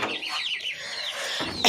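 A hen makes soft, sweeping clucks in a quick close-up series, followed by a short burst of noise at the end.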